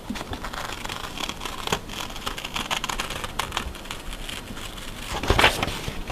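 Blade cutting along a marked line during ship-model building, a faint, continuous scratchy rasp with small crinkling ticks and a slightly louder scrape near the end.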